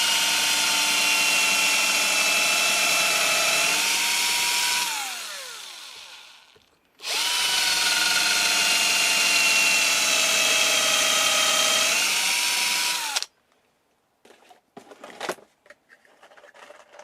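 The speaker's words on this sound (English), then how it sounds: "Using my drill bit with a countersink" A power drill fitted with a countersink bit, drilling while building a humidity box for blueberry cuttings, whines loudly in two long runs, dropping in pitch as it winds down each time, then a few faint clicks.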